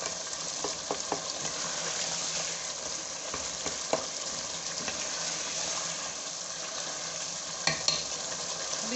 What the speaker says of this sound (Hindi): अभी 3-4 मिनट हम इसको भूनेंगे जब तक हमारा ऑयल ऊपर नहीं आ जाता